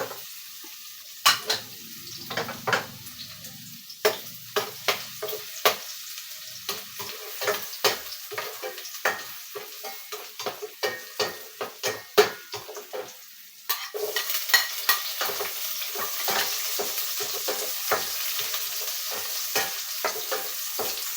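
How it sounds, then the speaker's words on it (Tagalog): Garlic sizzles in a hot pan while a spatula scrapes and stirs, giving repeated sharp metallic clinks over a steady frying hiss that grows louder after the midpoint. "unahin natin ang bawang"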